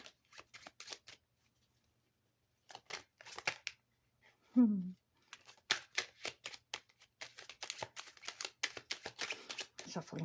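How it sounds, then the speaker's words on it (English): Bursts of crisp riffling and flicking as a deck of cards is shuffled up close, in several rapid runs separated by short pauses, with a brief voiced sound midway. "Shuffling feels awkward today."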